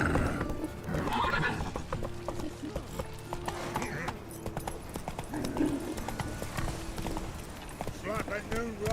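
The horse Roach in The Witcher 3 runs with rapid clip-clop hoofbeats and lets out several whinnies and neighs. Game speech and background sounds play underneath.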